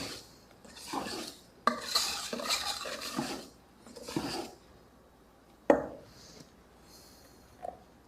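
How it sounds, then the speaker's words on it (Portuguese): Cake batter for gourmet pot cakes being stirred in a bowl, worked along the sides and through the middle; close, uneven bursts of scraping and clinking strokes separated by short pauses, with no talking. "Mexendo com carinho a nossa massa, nas laterais e no meio."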